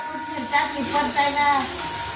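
Coriander sizzling in hot oil for tempering a dal, a bright close crackle and hiss with light stirring scrapes against the pan, heard alone.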